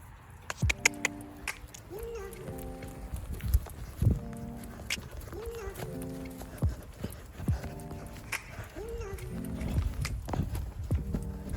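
A horse canters at the end of a training session, its hooves thudding in a steady repeating three-beat rhythm over roughly ten seconds, with some snorts and tack noise and no talking.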